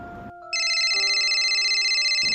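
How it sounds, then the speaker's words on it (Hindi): A phone rings with a loud, steady electronic ringtone, a repeating bright warble that runs without pause for about two seconds, with no one speaking over it. "ये उसी भैया का फोन होगा"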